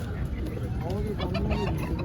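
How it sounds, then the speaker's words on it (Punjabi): Several chickens cluck and murmur close by in a steady, busy chorus, with a constant low background rumble and a faint voice underneath. "ਕਰੋ ਚੈੱਕ ਵੀਰ ਕੁੱਕੜਾਂ ਦੀਆਂ ਪ੍ਰਜਾਤੀਆਂ"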